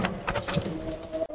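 Pigeons on a pigeon farm with mixed local and foreign breeds coo softly in short, close, repeated bursts over a low background murmur.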